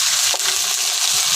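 An onion, garlic and spice paste fries in a pan for a banana-stem curry, with a loud, steady hiss of sizzling oil and a brief stir partway through.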